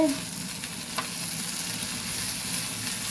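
Pasta cooking in a pan, with a utensil stirring through steady frying sizzle that holds evenly for about three seconds, with a few soft scrapes and no voices.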